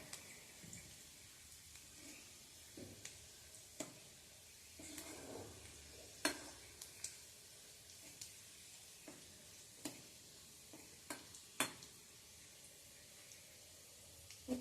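Garlic frying in oil in a pan for Konkani kulith pithla, a faint steady sizzle with occasional sharp pops and spatula clicks scattered throughout, quiet and without talking.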